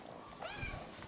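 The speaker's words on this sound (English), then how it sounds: "So the barn kitties are doing great" A barn cat gives a single short, soft meow close by, over low background noise on a farm.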